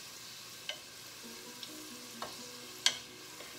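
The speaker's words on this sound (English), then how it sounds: "Fry those up." Faint, steady frying hiss of Hungarian forgacsfank pastry in a pan, broken by a few soft pops and sharp clinks spaced irregularly across the few seconds.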